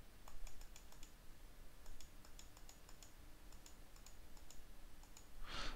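A value being typed on a computer keyboard: light, quiet keystrokes in quick uneven runs over faint background hiss, followed by a short brighter sound at the end.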